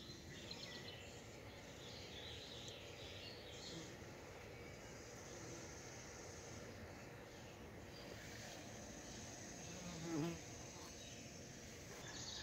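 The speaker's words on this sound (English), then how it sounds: "a nice yellow jacket nest behind us here, right on top of a deck" Yellow jacket wasps buzz around a nest on top of a deck outdoors, a faint, continuous insect drone with one brief closer swell near the end.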